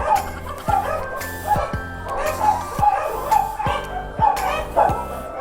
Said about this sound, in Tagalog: May aso, dami aso.